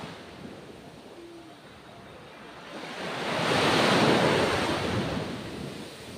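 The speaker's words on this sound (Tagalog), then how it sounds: "Tapos ito ang dagat guys" Sea waves wash ashore at a beach resort in Bagac, Bataan, a steady broadband surf that swells to a louder crest midway, then eases, with wind noise throughout and no voices.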